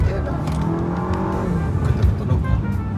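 A 2021 GAC Trumpchi GS8 SUV with a 2.0-litre turbo four-cylinder accelerates with a steady, moderately loud engine drone that rises in pitch, heard from inside the car with people talking over it.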